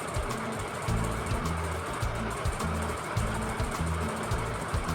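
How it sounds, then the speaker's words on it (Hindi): A sewing machine topstitching fabric runs steadily and close by, giving a continuous rapid mechanical whir with a pulsing stitch rhythm throughout. "अब इस पर हम टॉप स्टिच करेंगे ऊपर की साइड से"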